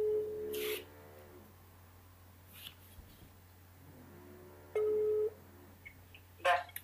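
A telephone line during an Oriflame sales call gives two separate steady electronic tones several seconds apart over a faint low hum, followed by a quick cluster of dialing beeps near the end.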